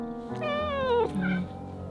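A cat gives one clear, drawn-out meow at close range with a falling pitch, followed by a shorter second call. No one speaks.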